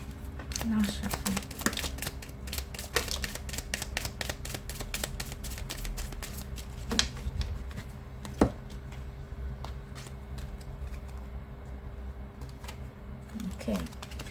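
Tarot cards are shuffled by hand in a quiet room, producing soft riffling and crisp, irregular taps that come and go over a faint steady hum, with occasional sharper snaps.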